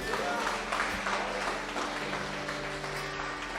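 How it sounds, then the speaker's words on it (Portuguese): A church congregation applauds, a soft, steady wash of clapping heard from a distance with sustained musical tones underneath. "Dê um forte aplauso ao Senhor"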